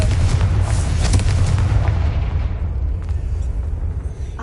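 A Confringo spell blast in Hogwarts Legacy on PS5, a loud deep booming explosion that rumbles and then fades away over a few seconds.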